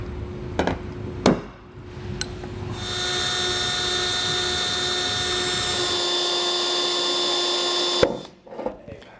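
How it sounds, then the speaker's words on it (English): Power drill boring a pilot hole in the cab roof of a 2022 Chevrolet Silverado to mount an LED cab light, a steady close whir for about five seconds, with a few knocks and clicks before and after. "we can go ahead and make that pilot hole."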